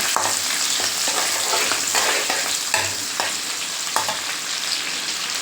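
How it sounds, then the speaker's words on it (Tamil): Oil sizzles and crackles steadily in a pan while garlic and curry leaves fry, with occasional stirring clinks and scrapes. "கூடவே ஒரு கொத்து கருவேப்பிலை இதை நெக்ஸ்ட்டு நல்லா வதக்குங்க"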